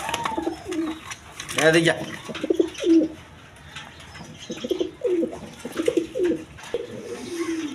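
Danish and Lotan pigeons cooing up close, repeated throaty coos in uneven bursts, with a brief flutter of wings and someone speaking a word in between.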